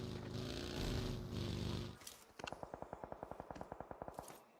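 Rapid machine-gun bursts from a PUBG Mobile esports match ring out as a steady string of sharp, evenly spaced shots over the second half, following a stretch of loud crowd-like game noise.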